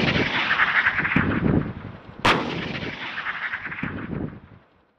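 A tank main gun fires during live-fire gunnery practice, heard as a single loud, sharp boom midway through a rumbling, reverberant outdoor soundscape with fainter distant thuds before and after, fading to near silence at the close; no voices.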